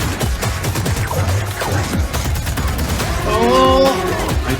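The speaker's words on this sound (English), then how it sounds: "Oh, I like the gunshots on beat" Bursts of rapid gunfire punch in rhythm with a loud, bass-heavy music track in the Borderlands 4 gameplay trailer, with a brief vocal snippet rising near the end.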